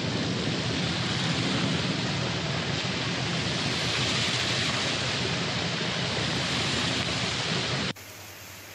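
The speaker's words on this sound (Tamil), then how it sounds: "நேற்றிரவு சாரலாக தொடங்கிய மழை பின்னர் பலத்த காற்றுடன் வலுத்தது." Heavy rain driven by strong wind in the Ambur area of Tirupattur district, a dense, loud, unbroken roar of downpour that drops off sharply near the end.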